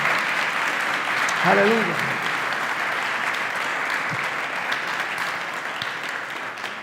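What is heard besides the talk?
audience applause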